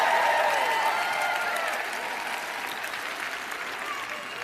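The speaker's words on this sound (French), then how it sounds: "Je vous prie d'applaudir un peu plus fort, cela m'aidera." Sustained applause from a sermon audience fills the whole stretch, steady and dense at first and easing slightly toward the end, with no voices over it.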